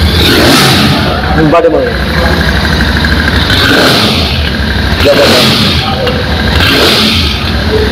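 A 2025 Royal Enfield Classic 350 with a dual silencer thumps loudly and close, its engine swelling in repeated revs every couple of seconds, while someone talks over it.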